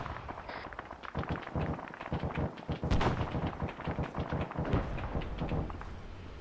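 Frag grenades go off in the Halo video game, with a rumbling blast near the middle amid dense, fairly faint crackling gunfire that carries on throughout.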